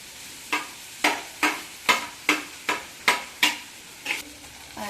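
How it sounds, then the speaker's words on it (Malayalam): Chopped potatoes and green chillies stirred into softened onions frying in a pan, a steady run of about nine sharp scraping stirs, each with a short sizzle, close and alone. "ഉള്ളി ഒരുവിധം വെന്ത് വന്നിട്ടുണ്ട് ഇനി അതിനകത്ത് നമ്മൾ ഈ അരിഞ്ഞു വെച്ചിരിക്കുന്ന ഉരുളൻകിഴങ്ങും പച്ചമുളകും കൂടെ ഇടാം"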